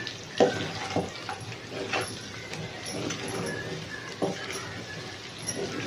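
A spoon stirs a large pot of chicken curry with about four kilos of chicken, making quiet scraping and wet shuffling sounds and a few sharp clinks against the pot.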